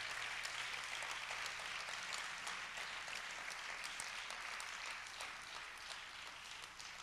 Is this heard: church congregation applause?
yes